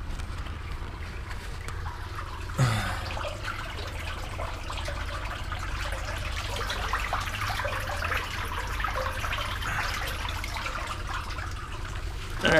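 Water trickling in at low flow over the bolts of a low-pressure water line, a faint, steady, hissing dribble that continues throughout, with a brief bump partway through and no speech.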